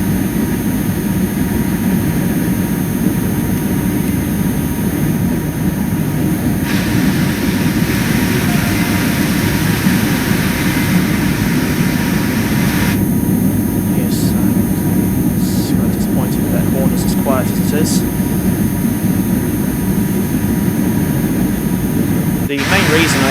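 An MRCE BR185.5 electric locomotive hauling a freight train in Train Sim World gives off a loud, steady drone with rumble and tonal hum throughout. Occasional clicks and shifts in tone break the drone.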